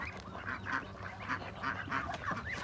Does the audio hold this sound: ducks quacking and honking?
yes